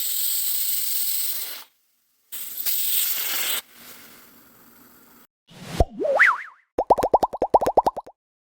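A pressure cooker of black kavuni rice nombu kanji porridge lets off loud bursts of steam hiss, then a rising, warbling whistle, ending in a rapid series of sharp pulsing toots.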